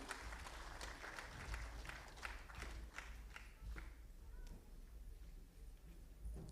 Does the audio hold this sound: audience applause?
yes